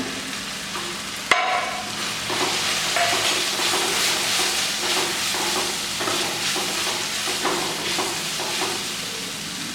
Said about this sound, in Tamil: இப்போ தக்காளி போட்டு வதக்கிக்கலாம்